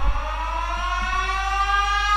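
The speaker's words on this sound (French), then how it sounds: "Par exemple on a une sirène." A siren sample fired from the sampler pad of DJ mixing software, a steady rising wail with layered harmonics that holds loud for about two seconds with no talk over it.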